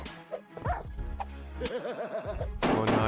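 Dogs in a Minecraft animation bark in a quick cluster of yips and bow-wows, moderately loud and close, mixed with other game sounds and a brief burst of noise at the end.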